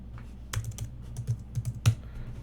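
Keystrokes on a computer keyboard tapped in short irregular bursts, close and fairly quiet, with no voices.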